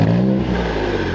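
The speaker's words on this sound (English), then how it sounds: "let's take a listen to what this thing currently sounds like" An Infiniti Q50 with stock downpipes revs briefly, a steady mid-pitched engine drone with turbo whir, close and loud, with no talking.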